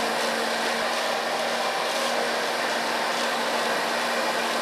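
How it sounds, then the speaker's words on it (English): A hair dryer blows steadily and loudly while a man's hair is blow-dried during a haircut, a continuous even whoosh with a faint hum running throughout and no talking. "This blow dry is very natural."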